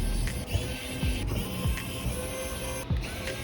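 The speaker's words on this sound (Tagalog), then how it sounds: "gagamit tayo nitong screwdriver na electric para madali siyang buksan" An electric screwdriver whirs in short, repeated mechanical bursts as it drives screws while opening a Monsgeek M1 mechanical keyboard case, close and moderately loud with small clicks between runs.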